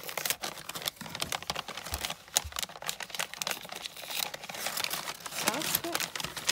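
Kraft paper wrapping printed with small white polka dots being handled and crinkled, a steady run of close, dry rustling and crackling bursts with a few sharper crunches, continuing throughout.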